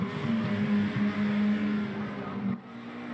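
An old BMW M3 race car engine on the Nordschleife holds a steady, raw, droning note, loud and close, then drops off abruptly near the end.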